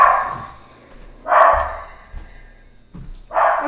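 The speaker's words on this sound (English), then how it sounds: "Sorry to anyone else's dogs who are barking." A dog barks in a busy home kitchen during a live cooking session: three separate loud bursts of barking with quiet gaps between them, close to the microphone.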